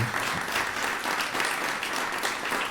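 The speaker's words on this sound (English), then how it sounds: "I ask you to give them a round of applause" An audience applauds the panel after a session on PrEP at the Ryan Center, a dense, steady wash of clapping that holds evenly throughout.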